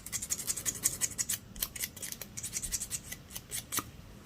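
Gel nails being roughed up with a nail buffer, close and quiet: a rapid run of short, crisp scratchy strokes in a steady, slightly uneven rhythm, with no talking.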